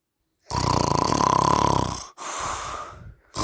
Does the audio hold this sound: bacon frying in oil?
no